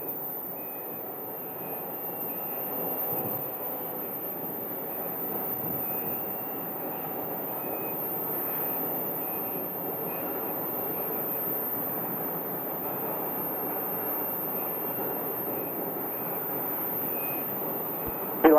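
Airliner landing at Phoenix Sky Harbor airport, a steady distant jet roar that carries evenly for the whole stretch, with a faint high whine and outdoor background noise, no voices.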